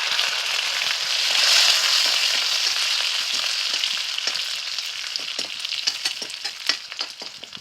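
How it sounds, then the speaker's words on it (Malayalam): Small shallots and curry leaves sizzle and crackle in hot oil for a curry tempering, a loud, dense frying hiss that gradually thins into sparse pops and spatters. "ചെറിയുള്ളി അത്യാവശ്യം വഴഞ്ഞു വരുമ്പോൾ നമ്മൾ കറിവേപ്പില കൂടി ഇട്ട് കൊടുക്കുന്നുണ്ട്"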